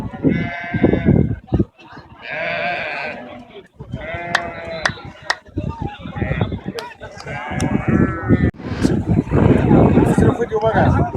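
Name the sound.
sheep and goats bleating at a livestock market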